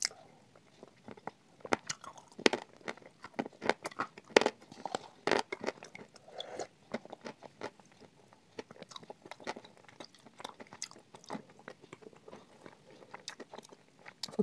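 Someone eats Uzbek blue salt candy with close, crisp bites and squishy chewing in an irregular rhythm, quiet and intimate, with no speech.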